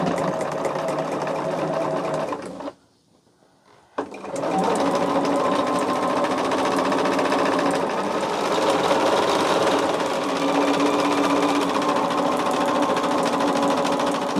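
A domestic sewing machine runs steadily, stitching quilt block seams for an Ohio Star basket block, with a loud continuous mechanical whir that stops for about a second and then resumes for the rest of the stretch.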